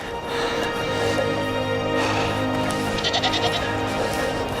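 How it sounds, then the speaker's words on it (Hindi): A herd of goats bleats near a mountain road on the Karakoram, several overlapping calls against steady wind or engine noise. "बकरियों का झुंड।"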